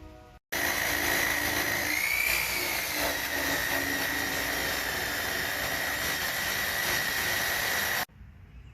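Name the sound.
electric buffer polishing car headlight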